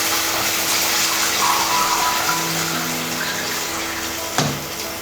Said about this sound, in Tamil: சேர்த்துட்டு நம்ம ஒரு 2 டம்ளர் அளவுக்கு தண்ணி சேர்த்துக்கலாம்.